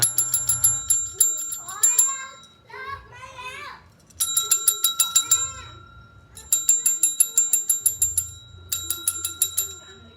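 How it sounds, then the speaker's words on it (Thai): Rapid bright bell rings burst out in repeated clusters, loud and close, alternating with children's voices talking and playing between and under the ringing. "กระดิ่งก็มา"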